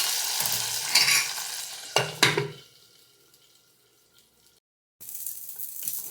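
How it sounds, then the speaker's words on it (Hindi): Spices and ajwain crackle and sizzle in hot oil for a tadka, with a stirring scrape and a couple of metal clinks, then quiet before a fresh burst of sizzling. "तो अभी मैं डाल रही हूँ तड़का।"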